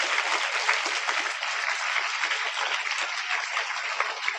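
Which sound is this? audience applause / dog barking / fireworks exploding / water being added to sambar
audience applause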